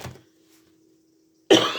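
A single short cough at the start, then near silence, followed by another harsher cough or throat-clearing burst near the end.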